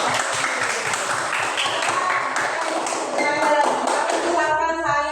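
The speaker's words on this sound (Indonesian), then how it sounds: "boleh tepuk tangan buat Yuda?" A classroom of primary school pupils claps for a classmate, an energetic, slightly uneven patter of small hands close by, with some voices and shuffling mixed in and talk starting near the end.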